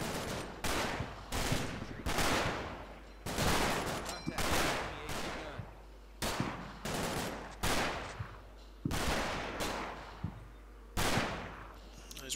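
Rifle and machine gun fire from the World War II game Combat Mission: Battle for Normandy, loud repeated bursts and sharp single shots crackling in irregular clusters throughout, with a low constant rumble beneath.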